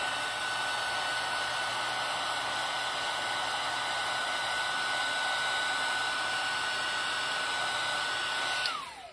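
A heat tool blows steadily to melt embossing powder in a craft project, a close, even whirring hum like a hair dryer that runs unbroken and then cuts off abruptly at the end.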